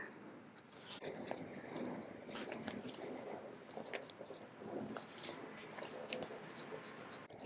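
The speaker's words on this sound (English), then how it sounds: "I'm gonna use this knife to cut this." A craft knife cuts a paper sticker sheet with small scratchy scoring strokes and light rustling of paper, close and quiet.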